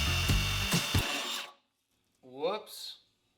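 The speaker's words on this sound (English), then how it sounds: "We're going to use a drill to actually give a small divot now." A power drill whirs loudly for about a second and a half, boring a small divot into a body panel of a crashed 2010 Honda Accord, then stops; a short voice follows after a pause.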